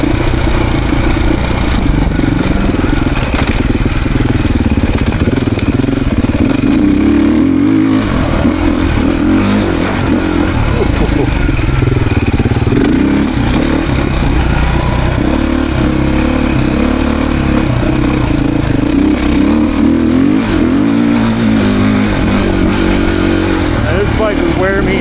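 Beta dirt bike on a demo ride, its engine revving and dropping over and over through a long stretch, close and loud with rattly clatter, while someone talks over it now and then.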